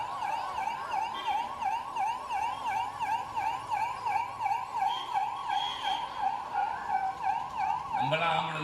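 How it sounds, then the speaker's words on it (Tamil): An ambulance siren wails in a steady rising-and-falling cycle, close and fairly loud, during an outdoor political speech in Tamil Nadu, continuing for several seconds before a louder sound cuts in at the end. "நம்மளாம் ஆம்புலன்ஸ்க்கு வழி விடுவோம்ல."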